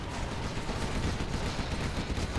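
Artillery strike landing in a real-time strategy video game match, a dense burst of rapid overlapping explosions and gunfire-like cracks rolling continuously without pause.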